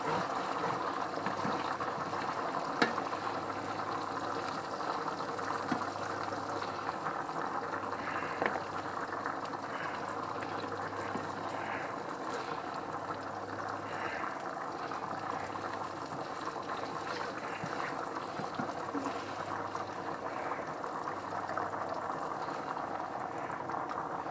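Noodles for spicy mac and cheese boiling in a pot, a steady bubbling rumble with gentle sloshing that holds at a constant level throughout, no voices over it.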